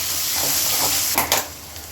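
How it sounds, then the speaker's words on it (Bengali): Chopped onion frying in oil in a pan for a jackfruit seed dal with fish head and tail, giving a steady close sizzle with two brief louder bursts of stirring or spatter near the middle, no voices. "পেঁয়াজটা একটু মজাই নিব, নরম করে নিব তেলে ভেজে"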